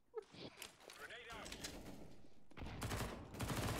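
Gunfire in Counter-Strike: Global Offensive on the Anubis map, a loud burst of rapid shots building near the end over shouting players and game noise.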